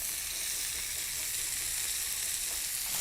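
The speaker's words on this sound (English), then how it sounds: "Fry the steaks 2 at a time over a medium heat for a couple of minutes on each side till they're nicely coloured and brown" Beef steaks frying two at a time in a pan over medium heat, a dense continuous sizzle with crackling spits, steady and close, no voices.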